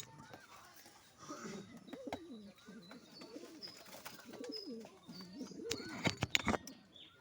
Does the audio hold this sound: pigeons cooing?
yes